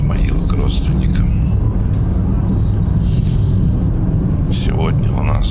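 A car driving along the highway toward Izmail, Ukraine, beside a lagoon, giving a steady low road rumble and engine drone throughout while people talk inside the car.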